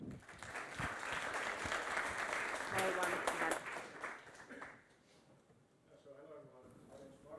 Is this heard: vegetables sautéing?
no